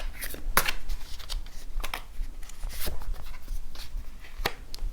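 Tarot cards shuffled by hand before a draw make a run of crisp riffling and flicking bursts, close and fairly loud, with no talking.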